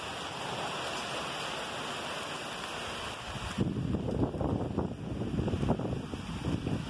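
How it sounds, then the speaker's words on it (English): Heavy rain pouring outside during a rainstorm, a steady close wash of noise with some wind buffeting the microphone and splattering drops growing louder partway through; no one speaks. "I'm out in the rain right now. Look, it is raining outside. That's the rainstorm."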